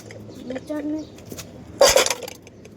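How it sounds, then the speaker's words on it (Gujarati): Metal utensils, pots and pans clatter and clink in a burst near the end of a village morning in rural Gujarat, India, loud and close after a stretch of quiet background and faint voices. "વાસણ"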